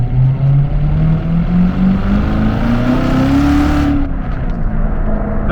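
The 650 hp 2017 Corvette Z06 V8 roars loud and close with exhaust valves open, its pitch climbing steadily through a hard rev before cutting off abruptly into a lower rumble.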